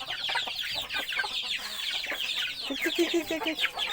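Hens clucking in short, busy bursts, with some bird chatter mixed in, fairly close and steady throughout.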